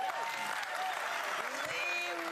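Studio audience applause on a late-night talk show, a steady dense wash of clapping that fills the whole stretch at moderate level with no pauses.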